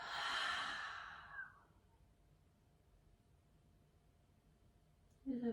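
A deep exhale through an open mouth during yoga breathing, a long breathy sigh that fades out over about a second and a half, close and alone, followed by quiet room tone.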